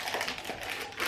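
A plastic food bag is handled in a kitchen while making keto chicken donuts, giving a soft, continuous crinkling and rustling that stays quiet and close throughout.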